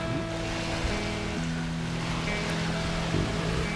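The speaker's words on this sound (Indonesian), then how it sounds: "Makan di tepi pantai ditemani si bocil yang ganteng-ganteng ini. Dengan suasana pantai yang tenang dan angin yang berhembus sepoi-sepoi" Calm beach with a gentle breeze, soft steady wash of wind and distant surf under faint low hums and tonal background sounds, even and unbroken throughout.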